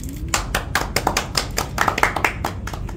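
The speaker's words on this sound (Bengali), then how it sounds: "হাততালি।" Applause from a small group between songs during a relaxed Bengali New Year shoot gathering, a steady patter of many hands clapping at close range for about three seconds, with no talk over it.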